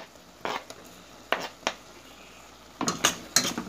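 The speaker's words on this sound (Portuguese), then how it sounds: "agora eu coloco primeiramente o alho" Garlic dropped into a boiling pot of shrimp stew with potatoes, heard as several sharp clinks and knocks of a utensil against the pot, spaced apart over a low background hiss.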